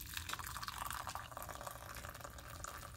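Brewed tea poured from a pot into a cup that already holds honey, a steady, close liquid trickle and splash running for about three seconds with no talking.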